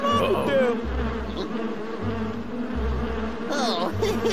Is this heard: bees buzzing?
yes